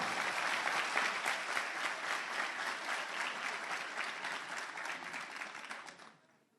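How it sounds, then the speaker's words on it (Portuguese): Congregation applauds a church drummer from Rio Pequeno, a loud, dense round of clapping that holds steady for several seconds, then thins and fades out at the end. "Uma salva de palmas."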